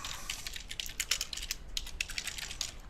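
Fingers type on a computer keyboard in a rapid, steady run of light clicks, close and moderately quiet, with no voice.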